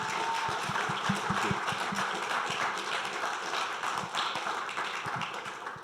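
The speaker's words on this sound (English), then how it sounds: "let's give a huge round of applause to these two." Sustained applause from an audience, many hands clapping together in a dense, steady patter that fades slightly at the end.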